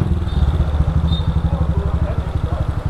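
A Start 160 motorcycle engine runs nearby with a steady, throbbing pulse, idling with a rhythmic chug and faint clatter.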